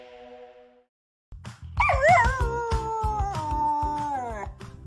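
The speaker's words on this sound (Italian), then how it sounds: "Non senti l'ululato?" Dog howling up close, one long wavering howl that falls in pitch, over background thumps and brief voices, following a short radio-advert tone.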